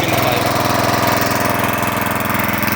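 A 6.5 horsepower gasoline engine drives a coupled water pump in a rain-making setup, a loud, steady, close chugging drone with a fast even pulse throughout.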